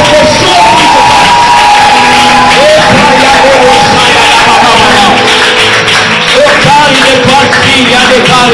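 A church congregation cheers and acclaims God, loud and continuous crowd shouting and whooping close by, filling the whole stretch with voices mixed in.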